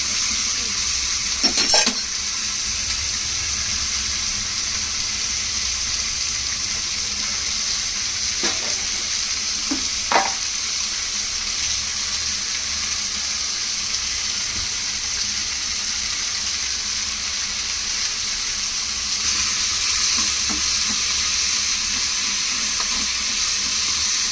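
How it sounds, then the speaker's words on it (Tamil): Gooseberry chutney ingredients sautéing in a pan, giving a steady, close sizzle and frying hiss throughout, with occasional scrapes and clinks of stirring. "லேசாக வதங்கினாலும் போதும், ரொம்ப வதக்கணும்னு கூட இல்லை."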